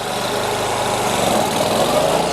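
A tractor-mounted flail mower's engine revs hard as the clutch engages, a loud, dense, steady mechanical roar close by that holds throughout.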